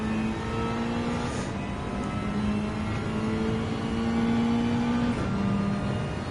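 Mazda 3 Group 4 race car in Gran Turismo 7, heard from the cockpit: a steady, buzzing engine drone that holds its pitch, dips briefly and rises again, loud and continuous with no talk.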